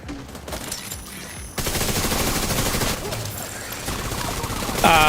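Rifle gunfire in The Division 2 video game, rapid sustained bursts that jump in loudness partway through and keep rattling close and dense to the end, with someone talking faintly beneath.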